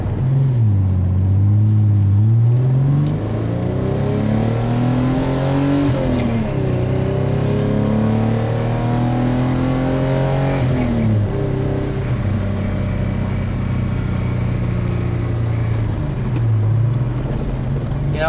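A classic T-top car with a 145-horsepower engine accelerates through several gears, its loud engine note climbing and dropping at each shift, heard from inside the car with no talking over it.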